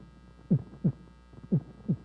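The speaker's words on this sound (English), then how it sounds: "These are your heartbeats." Heartbeat sound, four soft low thumps in a regular paired rhythm over a quiet background hum, with no talk.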